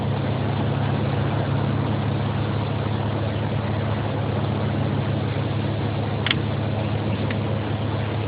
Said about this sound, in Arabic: The car now is running. The engine is working